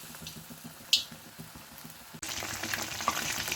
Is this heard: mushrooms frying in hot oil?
yes